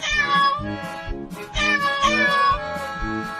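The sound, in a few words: cartoon cat meowing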